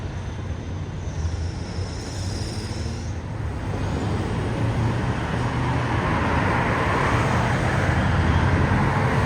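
A free city bus pulls up at a stop in Canada with a steady, loud roar of engine and road noise. The rumble holds evenly close by throughout, with no voices.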